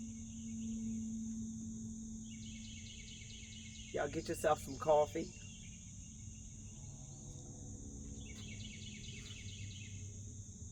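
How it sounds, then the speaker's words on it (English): Morning birdsong outdoors in a peaceful setting: faint chirps and trills repeat in the background over a steady insect-like drone, while a person speaks briefly in the middle. "Listen at the birds."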